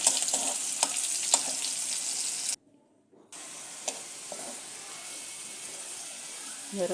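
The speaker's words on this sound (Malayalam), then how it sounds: "അത് ഒന്ന് വാടി കുറച്ചൊരു ബ്രൗൺ കളറാകുമ്പോൾ അതിലേക്ക് കറിവേപ്പില ഇട്ട് കൊടുക്കാം." Curry leaves drop into sliced onions browning in hot oil for kadala curry, giving a bright continuous sizzle with a few crackling spurts, briefly cut off mid-way, then resuming steadily, close up.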